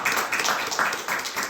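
A brief patter of hand clapping during a policy debate, quiet and uneven, with a few distinct claps in a short burst.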